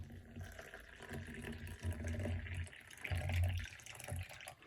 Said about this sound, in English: I taking the water and I pour water inside my coffee.